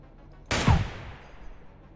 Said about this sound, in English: I will do my best to shoot him.